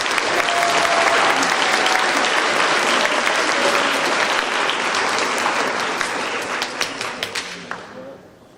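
Full-house audience applause at a school spring pops band concert, sustained and dense, then thinning into a few scattered final claps as it fades.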